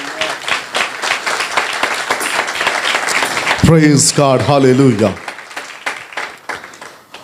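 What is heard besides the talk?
congregation clapping loudly to welcome the Holy Spirit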